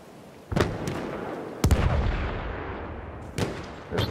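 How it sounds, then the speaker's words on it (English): Gunfire in the video game Battlefield 1: four sharp, booming shots a second or so apart, each trailing into a long rumbling echo, with no talk over them. "Would you mind stopping shooting at me?"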